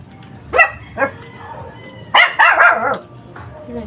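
A dog barks in short bursts: two sharp single barks, then a rapid cluster of yelping barks, fairly close.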